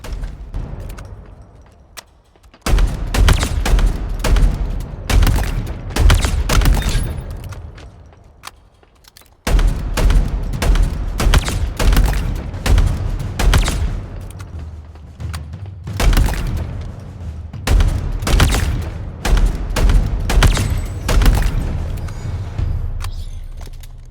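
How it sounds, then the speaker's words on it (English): VK78 Commando fire in Halo Infinite: loud, close bursts of rapid gunshots with sharp cracks and heavy low thumps, broken by a short pause before the firing resumes in long volleys. "The VK78 Commando, a new gun to Halo Infinite"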